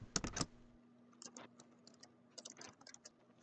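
Typing on a computer keyboard: a quick burst of keystrokes, then scattered light clicking taps in short irregular runs, close and quiet, with no talk.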